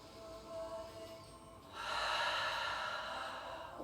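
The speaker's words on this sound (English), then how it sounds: "Big inhale." Deep breathing during a gentle hatha yoga flow, a quiet breath followed by a fuller, louder airy exhale that lingers, close and soft.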